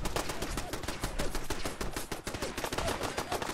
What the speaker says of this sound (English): I can't even see what they're shooting at over there.